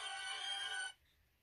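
A mobile phone ringtone rings loudly and steadily for almost a second, then cuts off abruptly into near silence.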